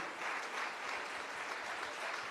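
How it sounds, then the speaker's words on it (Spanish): A church congregation applauds, with dense steady clapping for a couple of seconds at moderate distance. "Denle un fuerte aplauso a Él en esta noche"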